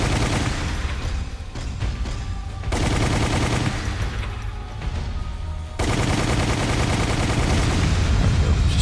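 Rockets firing in a video game battle, loud and continuous, with rapid bursts and booming impacts layered together in dense waves that swell and ease over several seconds.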